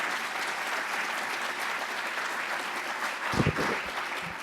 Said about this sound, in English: Let's give them a round of applause for all this really terrific work.